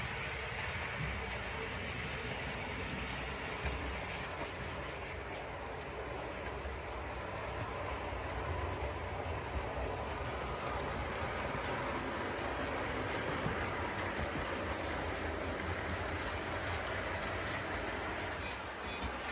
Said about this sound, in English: you'll hear the points changing as it advances